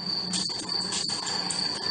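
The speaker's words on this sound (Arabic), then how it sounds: "انت بترش الحين؟" An aerosol insecticide spray, aimed at cockroaches on the floor, hisses in a steady, close, continuous burst with a few brief dips and a thin high whine running through it.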